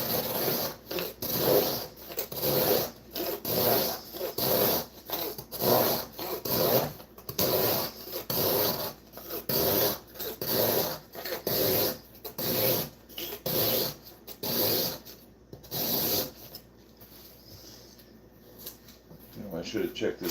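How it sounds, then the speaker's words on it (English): A Kubey D2 Nova knife draws repeated slicing strokes through sheet material in a steady rhythm of rasping cuts, loud and close, with a talking voice heard over parts of it before the strokes fade near the end. "we're doing just a live cut test on a Kubey D2"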